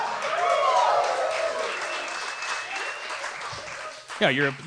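An audience claps and cheers in a sustained burst that gradually fades, with a voice briefly speaking near the end.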